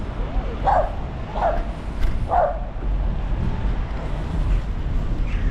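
A dog barks three times in a row, moderately near, on a city street in Poltava, with steady traffic and outdoor background noise throughout and nobody speaking.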